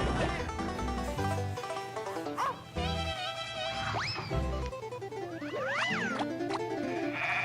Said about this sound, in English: random sheep sound effect there?